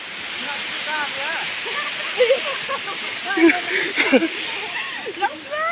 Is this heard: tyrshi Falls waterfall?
yes